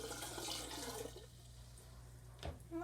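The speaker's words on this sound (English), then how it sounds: "I'm pouring the water through the sieve, and it's causing the brine shrimp to come out of the sieve, and I'm pouring it into a small fish bowl" Water carrying brine shrimp is poured through a sieve into a small glass fish bowl, giving a continuous close splashing trickle that thins out, then a brief clink and a renewed gush.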